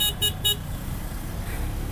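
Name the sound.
KTM motorcycle horn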